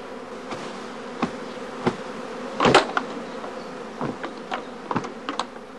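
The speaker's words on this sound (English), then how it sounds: "During the course of each swarming day, the prime swarms are packed in travelling boxes." A honeybee swarm being handled at a heather apiary, with a steady insect drone under scattered clicks and knocks and one louder burst of buzzing near the middle.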